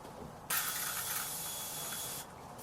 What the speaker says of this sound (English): it's literally just like an aerosol with moisturiser, and I will show you